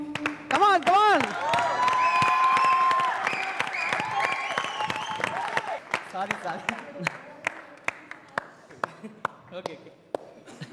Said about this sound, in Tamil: அதுக்கு தாங்க இவ்வளோ கைத்தட்டல உங்களுக்காக